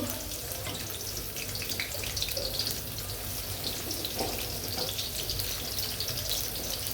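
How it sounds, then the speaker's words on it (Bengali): Onions frying in a pan for a bitter gourd curry, a steady broadband sizzle that hisses continuously and evenly throughout, loud and close with no talking. "আমি এখন পেঁয়াজ দিয়ে দেব।"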